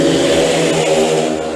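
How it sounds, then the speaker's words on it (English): Speedway motorcycle engines rev at the start line of a race, making a loud, dense, steady roar that holds for under two seconds. "But the revs about to go high,"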